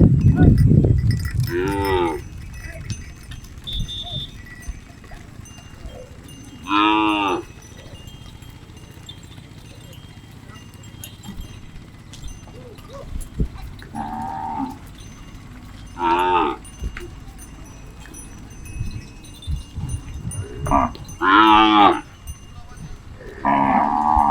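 Several desi cows and calves on a farm of about 300 cows moo at intervals, some calls high and short, others deeper and drawn out, over a steady outdoor background.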